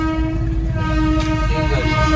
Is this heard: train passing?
yes